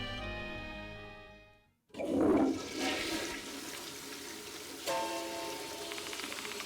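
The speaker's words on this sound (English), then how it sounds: "But then she heard the sound of the toilet being flushed in the empty stall next to her." A toilet flushes in a game's empty restroom stall: after a brief silence, a loud rush of water surges and swirls, then settles into a steady hiss of refilling water.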